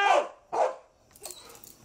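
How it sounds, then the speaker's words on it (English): A police canine barks during a search of a house, giving two loud, close barks in quick succession, followed by quieter shuffling and a faint yip. "I'll send out the officer and his dog!"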